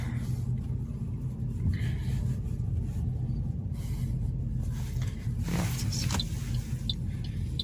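A steady low engine hum inside a Toyota Corolla 1.6 running on LPG, constant and moderately quiet, with a few faint clicks and rustles on top.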